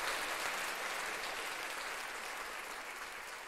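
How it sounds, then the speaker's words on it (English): Steady applause from a live stream audience, a continuous dense patter of clapping hands that holds evenly and fades only slightly toward the end. "I got to give Tara a round of applause"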